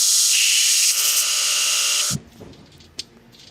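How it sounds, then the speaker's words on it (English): A belt grinder shaves the side of a metal clip on a truck, a loud, steady high whine for about two seconds that cuts off abruptly, followed by a few faint clinks and handling noises. "shave a little bit off with the belt grinder on the side"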